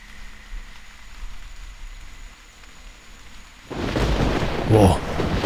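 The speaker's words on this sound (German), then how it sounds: "regnet es natürlich, da ist die Sicht auch nicht mehr so der Burner." Rain and thunder in the hunting video game The Hunter Primal: a quiet rain hiss with low rumbling gives way to a sudden louder surge of heavy rain and thunder.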